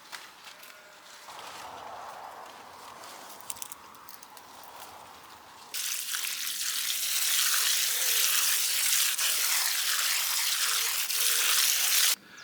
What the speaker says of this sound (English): I've given the blackcurrants a good rinse off